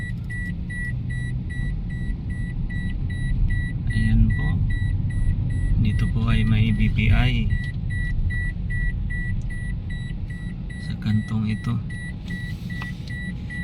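A car's seatbelt warning chime beeps repeatedly in a steady high tone inside the cabin during slow city traffic, with someone talking over it and road rumble beneath.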